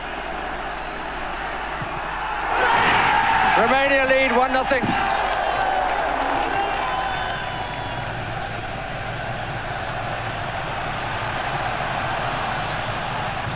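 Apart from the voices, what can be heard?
football stadium crowd cheering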